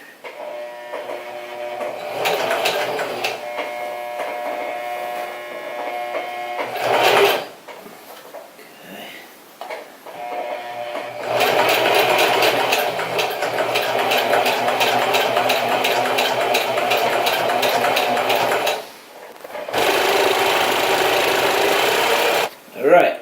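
A sewing machine stitching outdoor gear during a repair, running in steady mechanical bursts with brief stops, then a long continuous run and a short final burst, close and loud.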